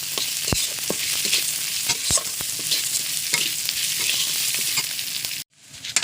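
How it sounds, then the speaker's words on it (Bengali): Mung dal being stirred into fried onions in a pan, a steady sizzle with repeated sharp scraping strokes of a spoon, cutting off near the end. "একটু ভালো করে মিশিয়ে নেব"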